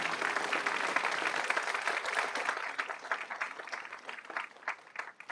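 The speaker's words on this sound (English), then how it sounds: "Round of applause for seniors." Audience applause honoring the graduating seniors at a school spring instrumental concert: dense, steady clapping from a large crowd for several seconds, thinning slightly toward the end, with no voices standing out.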